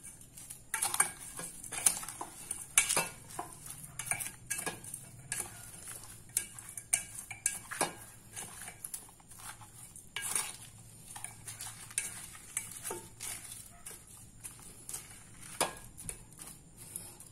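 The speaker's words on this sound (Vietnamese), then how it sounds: "Rồi mình trộn đều lên để cho nó khoảng 20 phút cho nó thấm." Sliced stingray tossed with sugar in a bowl to marinate, the utensil clinking and scraping against the dish in irregular close taps over a faint wet shuffle, with no talk.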